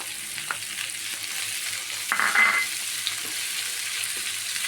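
Crushed shallots with ginger-garlic paste frying in a pan, a steady close sizzle broken by one louder burst of stirring partway through, with no voices.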